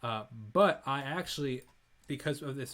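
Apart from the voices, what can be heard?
No distinct noise like a dog, phone or traffic.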